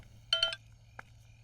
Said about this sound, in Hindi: फोन आ रहा है, मैं अभी आता हूँ।